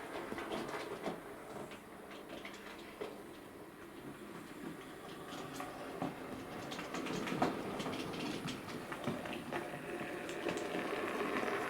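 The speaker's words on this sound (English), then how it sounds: "I'm going to run it in analogue for you first so you can see this loco running in analogue" A King George I model locomotive running on analogue power, a steady low mechanical rumble with faint clicking rail noise, continuous and moderately close, no talk.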